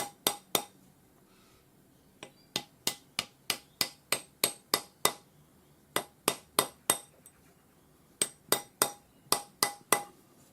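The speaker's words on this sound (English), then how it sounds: "round it up on your ring mandrel using your rawhide hammer or a wood hammer" Sharp, ringing taps of a rawhide or wood hammer rounding a metal ring on a ring mandrel, in rapid bursts of several blows, pausing briefly between groups, close and crisp.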